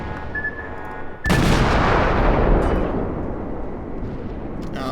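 Cruiser main guns in World of Warships fire a heavy naval salvo, a loud broadband boom that swells abruptly and rolls on as a long, sustained rumble, with a softer steady engine and ocean ambience beneath.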